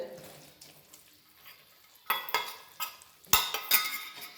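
A spoon scrapes and knocks around a pan as crushed peanuts are stirred into hot, darkened jaggery for peanut sukhdi, soft at first, then in several sharp, close clatters.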